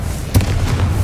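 A Confringo spell explodes in the Hogwarts Legacy video game with a single short, dull boom over a low rumbling game background.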